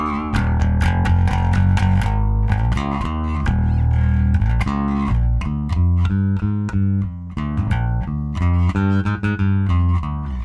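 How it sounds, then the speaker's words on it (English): A clean-toned electric guitar played through a pedalboard with a Suncoast BC3XL, ringing out a lively run of plucked notes and chords, close and clear with sustained tones between quick attacks. "Right, nice straight clean tone."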